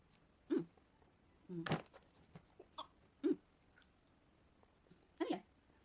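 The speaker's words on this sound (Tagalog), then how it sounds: "Inuubo kasi siya." Baby coughing indoors, several short separate coughs close by, some louder than others, with no talk between them.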